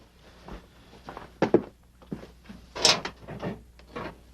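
A file drawer is checked in an office, with several thunks, rattles and sliding knocks at varied loudness spread across the moment.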